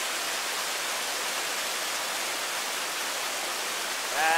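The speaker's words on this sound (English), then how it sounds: "Water coming down here." Pine Brook Falls on Mt Greylock pours down in a steady, even hiss of falling water, moderately loud and continuous, with a brief faint voice near the end.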